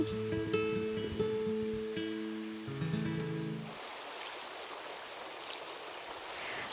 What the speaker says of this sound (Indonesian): hari ini kakak bisa mendengar suara aliran sungai